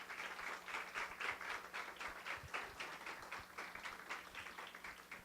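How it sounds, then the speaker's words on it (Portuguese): Audience applause for a speaker at a lecture, a steady wash of many hands clapping at moderate distance, fairly quiet, continuing evenly throughout. "Professor Cícero, a quem eu peço uma salva de palmas."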